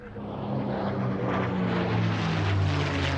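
A P-51 Mustang propeller fighter from a vintage aerobatic display team drones past, its engine roar swelling and holding loud and steady with a slight rising pitch, no talk over it.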